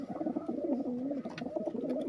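Domestic pigeons kept as a hobby coo steadily at close range, a soft throaty rolling call repeating throughout with no talk over it.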